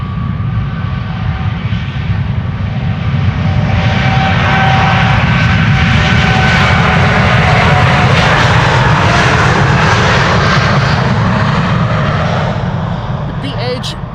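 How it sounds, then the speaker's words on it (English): A KLM airliner on its takeoff roll from Amsterdam Schiphol bound for Calgary, a loud, building jet roar with whining engine tones that swells, peaks, then eases slightly as it passes, with a voice talking over it. "KLM Flight 677 to take off to Calgary in Canada"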